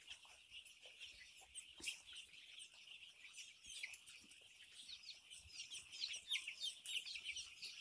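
Thirsty young chicks in a poultry farm shed on vaccination day, a faint, steady chorus of high chirps and peeps from many birds.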